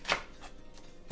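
Knife chopping onions into chunky pieces in a home kitchen, with a couple of sharp, close cuts on a board spaced apart in a quiet moment.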